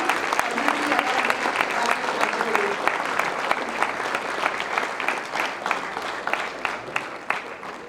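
An audience at a talk by a scientist on a US tour applauds steadily in a dense, sustained patter of clapping that carries on for several seconds, with a few louder claps standing out.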